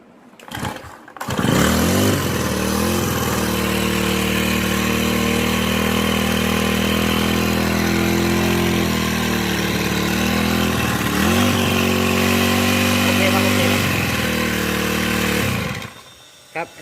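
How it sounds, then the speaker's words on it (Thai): A Honda GX35 four-stroke engine runs with a noisy gear head at the tail end, a loud, steady buzzing drone that holds for about fifteen seconds with small shifts in pitch before it cuts off. "ตรวจสอบเสียงดัง ที่หางของ Honda GX35 นะครับ ว่ามันดังที่กกคัด หรือว่าดังที่หัวเกียร์นะครับ"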